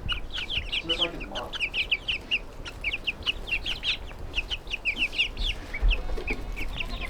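Young chickens cluck and peep continuously near the mic, a busy stream of short high calls with quiet farmyard ambience underneath.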